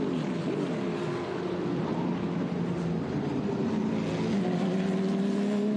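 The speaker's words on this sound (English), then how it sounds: "We just had a spinning car out of the exit of 3." A race car on a road course at Lime Rock during a Trans Am Series race, engine droning loud and steady with a falling pitch as it spins out, with no voices.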